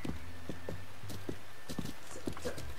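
Horse hooves clip-clop at a steady walking rhythm in Zelda Breath of the Wild near Kakariko Village, a string of quiet, evenly spaced thuds over soft ambient game background.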